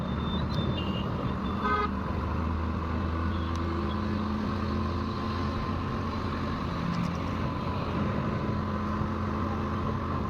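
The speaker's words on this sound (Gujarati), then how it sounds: "3-4 કિલોમીટરનું ટ્રાફિક છે." Heavy road traffic in a kilometres-long jam, with a steady engine drone and low rumble throughout, broken by several short horn toots early on and a few more later.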